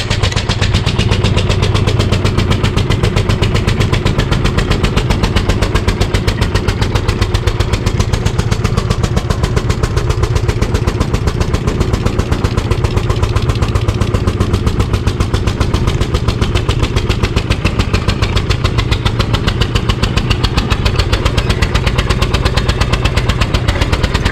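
Engine of a Craftsman YS4500 lawn tractor with faulty heads and leaking valves, running loud and close with a fast, steady, rough pulsing chug that holds unchanged throughout.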